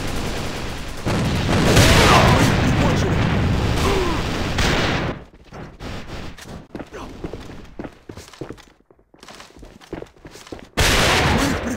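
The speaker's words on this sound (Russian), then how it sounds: "Бросаю гранату!" A grenade explosion and gunfire in the shooter game A.V.A.: a loud, dense roar of blast and shots for several seconds, then quieter scattered pops and crackles, before another loud burst at the end.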